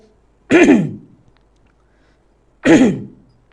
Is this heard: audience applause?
no